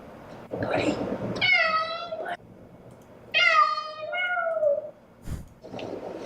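A long-haired fluffy cat meows loudly during grooming, giving two drawn-out, close cries with a few fainter vocal sounds around them and some background noise.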